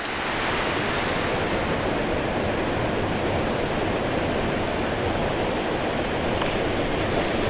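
Spring waterfalls in a canyon roar in a steady, broadband rush of falling water, constant and loud throughout with no other sounds.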